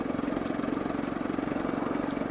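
A Honda CRF250L motorcycle pulls in sixth gear with the throttle opening, its single-cylinder engine giving a steady, rapid pulsing thrum, close and moderately loud with wind rush over it.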